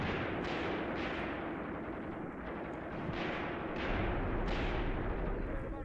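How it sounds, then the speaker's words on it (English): Machine gun and artillery fire in the Graviteam Tactics: Mius Front war game, a dense rumbling battle bed with repeated sharp bursts roughly every half second to second, fairly loud and continuous. "Machine gun's trying to drop its rounds into that hollow"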